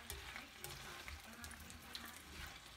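Buttered shrimp sizzle in a Teflon pan while being stirred, a close, soft crackling fry with light scraping stir sounds layered over it.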